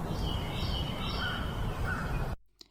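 Crows caw outdoors in a Backrooms video, loud and close over a dense, continuous wash of wind or rustling trees. Everything drops away abruptly near the end, leaving near silence with a couple of faint clicks.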